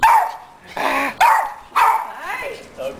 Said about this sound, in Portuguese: Tá latindo diferente